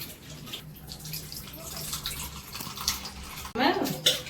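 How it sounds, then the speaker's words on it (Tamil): Warm water is poured over tamarind to dissolve it while fish curry is made. The water trickles and splashes in a quiet kitchen, building to a louder pour near the end, and a voice talks over it. "இந்த மாதிரி கொஞ்சம் தண்ணி வெதுன்னு காய வச்சு ஊற்றி கரைச்சோம்னா நல்லா ஈஸியாயிடும்"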